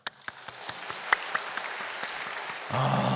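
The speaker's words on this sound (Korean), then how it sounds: "우리 박수 한번 칩시다." A church congregation claps together at a Friday Holy Spirit service, starting with a few scattered claps that build into fuller, louder applause near the end.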